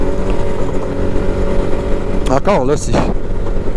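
Can-Am Maverick X3 DS Turbo RR off-road side-by-side with its turbo engine running steadily close by, carrying wind noise, while someone talks over it.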